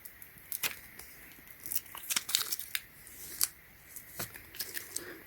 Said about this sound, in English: just peel this off.